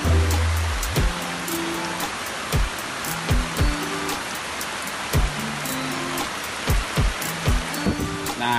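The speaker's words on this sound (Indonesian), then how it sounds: "Hujan lebat." Heavy rain pours down outdoors, a dense steady hiss with scattered louder knocks and thumps throughout, no voices.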